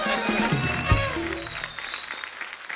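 Studio audience on The Kapil Sharma Show welcomes Karan Singh Grover and Bipasha Basu with brief clapping and cheering, mixed with a voice and high whistle-like tones, fading slightly at the end.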